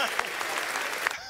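A standing ovation fills the House chamber, with dense steady clapping that swells and then tapers off near the end; voices mingle in the crowd.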